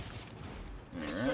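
A weapon reload in a Warhammer 40K Ultramarines video game as rounds are inserted: faint, brief mechanical clicks and ratcheting creaks, with a metallic rattle rising at the end.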